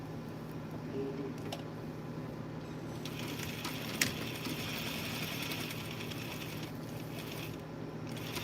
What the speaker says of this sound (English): So I'm sewing one half of the sleeve